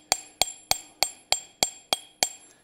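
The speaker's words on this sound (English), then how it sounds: "So we're just peening this on around." A light hammer peens iron tenons over while a colonial trivet is forged: eight crisp, ringing metallic strikes at a steady, even pace, close and clear with no talking.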